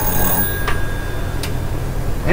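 A telephone rings in a room during a restoration of a Westinghouse Portatape tape recorder, with sharp bell bursts repeating about every three quarters of a second over a steady background hum.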